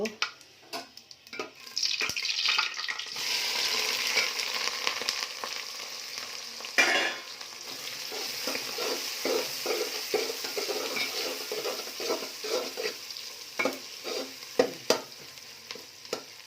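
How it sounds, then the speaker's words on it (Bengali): Onion fries in a pan with cardamom, cinnamon, cloves, black pepper and dried chili, a soft steady sizzle broken by repeated scraping stirs of a spatula and a few louder clatters, with no talk. "পেঁয়াজটা ভাজা হোক, তারপরে পেঁয়াজটা ভাজা ভাজা হয়ে গেছে"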